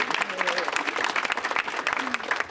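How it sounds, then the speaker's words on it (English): Audience applause at a mayoral press announcement on health and workforce, a dense patter of many hands clapping at moderate volume, with a voice speaking over it. "And that's a hand clap."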